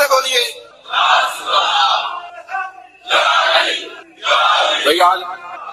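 A large crowd at a religious gathering chants slogans in loud, repeated bursts, several rising and falling in waves of massed voices with short pauses between.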